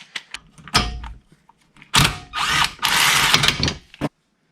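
Impact wrench on a swivel socket working at 19 mm bolts on a Mercedes W124 during a brake job, heard as several loud close bursts of rattling hammering, separated by clanks and short pauses.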